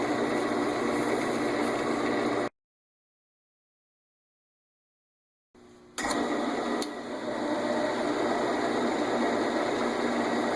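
A natural-edge winged bowl of silver maple is sanded on a woodturning lathe: a steady whirring hum drops out into silence for about three seconds, then resumes and builds back to full level.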